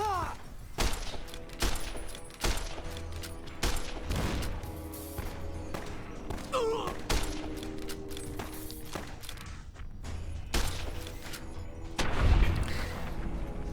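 Gunfire striking an enemy in the video game Fallout New Vegas: a dense, continuous stream of shots and impact thuds over steady in-game background noise, with sharp bursts throughout.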